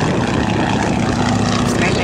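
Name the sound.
Fairchild PT-19 trainer plane with Ranger engine taking off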